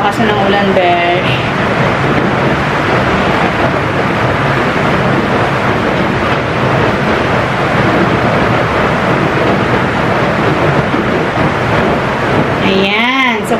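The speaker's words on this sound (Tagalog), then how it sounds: "Lakas na ng ulan" Heavy rain pouring steadily, a dense, loud roar of hiss and rumble that fills the whole stretch, with brief faint sounds at the start and end.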